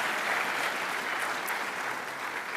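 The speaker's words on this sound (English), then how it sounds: "Give yourselves a round of applause for getting back here." A school chapel audience applauds steadily and loudly on orientation day, dense clapping throughout with no talk over it.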